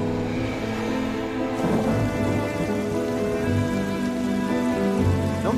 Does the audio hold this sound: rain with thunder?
yes